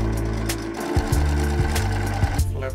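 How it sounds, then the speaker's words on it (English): A sewing machine whirs in a fast, steady mechanical chatter, pausing briefly and restarting in short bursts as it stitches. "and to the sewing machine"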